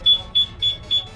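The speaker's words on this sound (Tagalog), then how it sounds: "Itigil yung sirena niya, but i-activate yung alarm." Yamaha NMAX 2020 fitted with a two-way motorcycle alarm system chirping in four short, evenly spaced high-pitched beeps, close and fairly loud.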